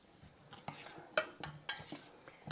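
Sausage being stirred together in a pan for a Thanksgiving dish, soft scattered scrapes and clinks of a utensil against the pan at a quiet level, a few sharper knocks among them.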